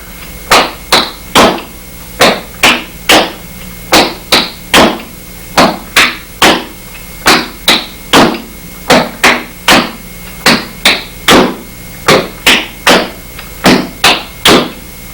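Flatfoot dance steps strike a wooden floor in a steady pop-flap-step pattern, dozens of sharp, loud, close knocks grouped in quick repeating threes, with no voices.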